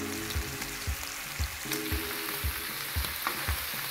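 Smoked bacon pieces sizzle and crackle hot in a frying pan, a steady fry broken by regular soft knocks of stirring or turning roughly every half second.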